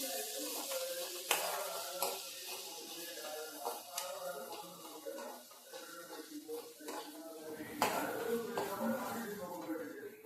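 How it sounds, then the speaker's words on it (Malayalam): Ginger and garlic stir-fried in a pan for a pepper chicken fry, with soft sizzling under repeated spoon scrapes and clinks against the metal, close and steady. "ഇനി ഇതിന്റെ പച്ചമണം മാറുന്നത് വരെ ഒന്ന് ഇളക്കണം."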